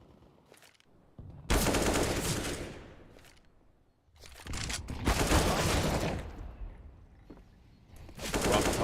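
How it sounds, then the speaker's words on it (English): Rifle gunfire during a professional Counter-Strike match at ESL Pro League playoffs, with sharp shots and dense bursts of fire in clusters, loud and close, separated by quieter gaps. "Zevi misses the shot, but he can tuck back into cover."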